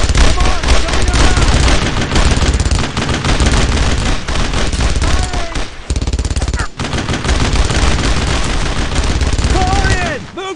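Rapid gunfire and machine-gun bursts fill a World War II firefight in the video game Brothers in Arms: Road to Hill 30, loud and nearly continuous, with brief gaps and shouted voices mixed in.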